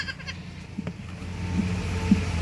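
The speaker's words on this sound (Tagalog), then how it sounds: "Oh, Kikay yung kambing" A goat bleats faintly on a small farm where a nursing doe and her kid are kept, a couple of short calls rising over quiet background noise.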